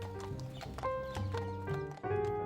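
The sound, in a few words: mounted police horses walking, hooves clip-clopping in Rome park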